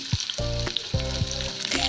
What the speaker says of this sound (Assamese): তেল গৰম কৰি পিঁয়াজখিনি দি দিলোঁ আৰু লগতে 4টা জলকীয়া যিখিনি ফালি থৈছিলোঁ সেইখিনিকো এতিয়া দি দিলোঁ